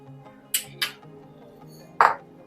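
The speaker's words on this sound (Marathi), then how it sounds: "चमच्याने थोडंसं मिक्स करून घेऊया" A spoon stirring custard milk into whipped cream in a bowl, with three sharp clinks against the dish, two close together and one after a pause, in a quiet room.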